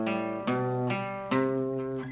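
A short riff of five chords from the chorus of a song, with each chord struck cleanly and left to ring in an even rhythm, played close and quiet with no voices.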